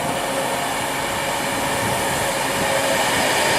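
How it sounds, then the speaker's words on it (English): A Virgin Trains Class 390 pulls into a station with a loud, continuous broadband roar and rumble, close and unbroken for the whole stretch. "Next train arriving in is a Virgin Trains Class 390 bound for London Euston only"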